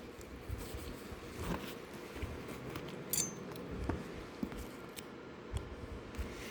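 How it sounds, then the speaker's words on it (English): Several crisp snips and rustles of scissors cutting through the fabric straps of a Vera Bradley backpack, close by, with soft handling noises in between and no talking. "And we want to cut the straps"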